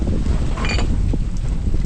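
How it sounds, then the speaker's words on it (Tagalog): Strong wind blows steadily across an open farm and buffets hard against the microphone, a loud, constant roar with no voices. "At malakas po ang hangin ay."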